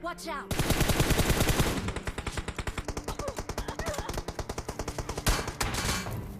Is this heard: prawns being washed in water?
no